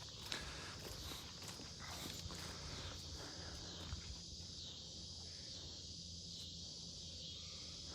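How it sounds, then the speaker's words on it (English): Cicadas buzzing by a river in a nature reserve, a steady high-pitched drone that fills the air throughout, with faint footsteps and rustling underneath. "The cicadas were too loud."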